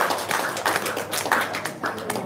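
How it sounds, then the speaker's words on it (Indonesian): Hands clap in a steady, rhythmic beat at a live-streamed gathering, sharp bursts repeating roughly three times a second, close and moderately loud with no talking over them. "Sini, tepuk tangan tuh."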